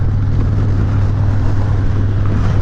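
A 2019 Harley-Davidson Heritage Classic motorcycle cruising in sixth gear at held-up revs: a loud, steady engine drone with a low rumble, heavily buffeted by wind across the microphone and unchanging throughout.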